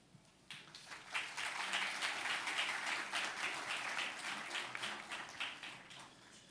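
Audience applause at a panel discussion on crime fiction, a steady dense wash of clapping from a crowd that rises quickly and holds for several seconds, moderately distant.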